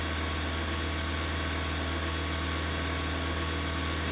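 A modded vehicle engine in Farming Simulator 22 idles at a steady low rumble with an even mechanical pulse, loud and unbroken for about four seconds, with no talk.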